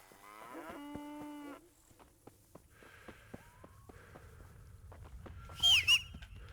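Cattle in a pen in Kingdom Come: Deliverance let out a long low moo and then further lowing, with scattered clicks and a brief high whistle near the end; no one speaks.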